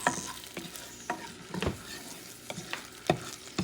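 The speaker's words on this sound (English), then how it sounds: "And this sofrito. Let them saute for a few seconds." Chicken wings and sofrito sautéing in a pan for a Puerto Rican wing stew, a low steady sizzle broken by repeated sharp clacks of a utensil stirring against the pan.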